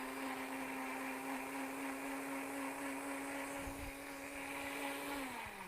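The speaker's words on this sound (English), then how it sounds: "So you just let it blend." A kitchen blender runs steadily, whirring a green breakfast smoothie, with a strong motor drone throughout that drops in pitch near the end.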